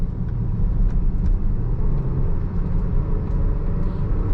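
A 2016 Range Rover Sport HSE accelerates on a highway, heard from inside as a heavy, steady low rumble of engine and road noise, loud and continuous.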